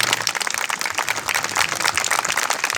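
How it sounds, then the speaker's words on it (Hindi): Dense, steady applause from an audience at a Hindi poetry recital (kavi sammelan) fills the whole stretch: many hands clapping at once, loud and close, with no break and no talk over it. "तालियां पूरा सदन बजाए"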